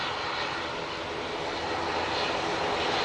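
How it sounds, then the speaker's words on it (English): A Qatar Airways Boeing 787-9 Dreamliner lines up to depart Manchester Airport for Doha, its engines producing a loud, steady broadband roar that holds constant throughout, with no voices. "we have this Qatar 787-9 Dreamliner now lining up as it prepares to depart back to Doha"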